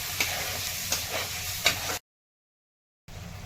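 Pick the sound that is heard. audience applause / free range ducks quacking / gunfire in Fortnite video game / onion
onion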